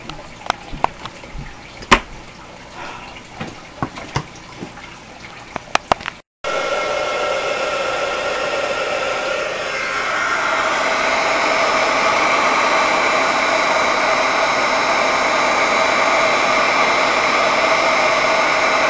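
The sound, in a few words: heat gun blowing, heating embossing powder on polymer clay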